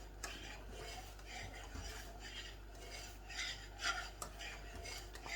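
A spoon scrapes and stirs thick chocolate pie filling in a pot on a stovetop, a quiet, steady rubbing and clinking of metal against the pan that comes in uneven strokes over a low background hum.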